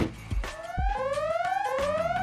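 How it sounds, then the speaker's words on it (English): A warbling electronic alarm sounds loudly and close, with repeated rising sweeps one after another and a few low thumps underneath. "You hear that alarm?"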